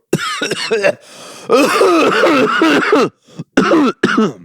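Several throaty coughs into a microphone on a podcast, harsh chesty bursts in quick clusters with short pauses between, loud and close.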